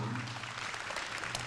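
Brief burst of dense applause from parents and children at a kindergarten graduation ceremony, welcoming the principal; a steady wash of many hands clapping with no talk over it.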